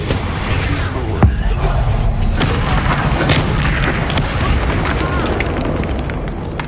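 Expulso explosion spell cast in the game Hogwarts Legacy, a sharp booming burst near the start over a dense, continuous wash of combat noise, with voices speaking throughout.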